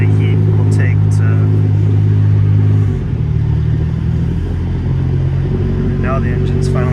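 A loud 2.8L Nissan R34 Skyline GT-R engine holds a high idle up close, then drops to a lower, rougher idle partway through, with a person talking over it.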